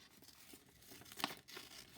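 Quiet, close paper sounds: soft rustling and crisp snips as paper is cut, with one sharper tearing crunch in the middle.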